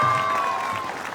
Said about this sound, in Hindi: बेटा जोरदार तालियां बजाएं।